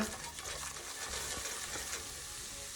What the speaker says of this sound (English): I'm going to whisk it around for a minute and let that butter and flour absorb.